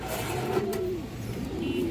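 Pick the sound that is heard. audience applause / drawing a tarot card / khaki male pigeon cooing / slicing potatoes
khaki male pigeon cooing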